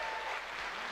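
Friends and family cheer and clap loudly for a superheavyweight woman's bench press at a World Games powerlifting meet, a dense, steady wall of applause throughout.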